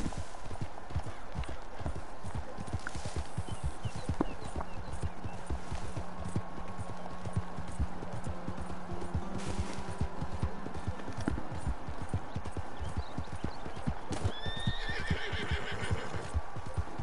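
A horse gallops with steady rapid hoofbeats and whinnies in the video game Red Dead Redemption 2, continuous pounding clip-clop with a neigh near the end.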